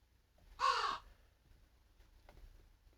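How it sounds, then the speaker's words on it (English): A single loud crow caw rings out, followed by quiet background and a faint distant call later. "track 5 is the sound of a crow calling"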